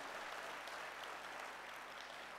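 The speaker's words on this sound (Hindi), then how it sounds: "पर तालियों में जोर होना चाहिए।" An audience at a cultural program claps faintly and steadily, a soft, even patter of applause with no voices.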